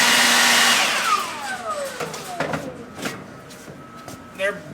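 An air blower clears debris out of small holes in a burnt metal part, starting as a loud, close hissing blast that quickly fades into quieter bursts and clatter with voices faintly underneath.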